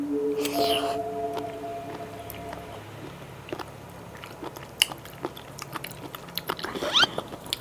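Chilled, ice-soaked Huế jellyfish being chewed close up, giving soft squishy bites with a few crisp crunchy clicks late on, after a tonal hum at the start.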